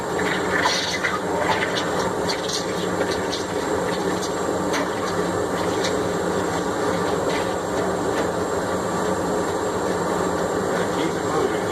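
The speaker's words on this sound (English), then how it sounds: "It takes a little bit to quench a big chunk of steel like this." Hot forged 1045 steel hammer head quenched in water, a continuous rushing, bubbling hiss with crackling bursts, steady and close throughout.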